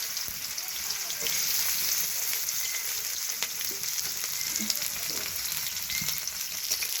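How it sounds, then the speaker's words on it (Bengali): Bitter gourd fries in hot oil in a wok, giving a steady, close hiss and sizzle with light crackle and an occasional faint stir. No one speaks. "দিয়ে আমি উচ্ছেটা ভালোভাবে ভেজে নেব।"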